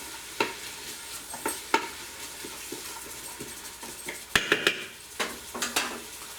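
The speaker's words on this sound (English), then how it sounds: "While that's sauteing" Food sautéing in an Instant Pot while black-eyed peas are being prepared: a soft, steady sizzle broken by scraping stirs and the clatter of a utensil against the metal pot, close and alone.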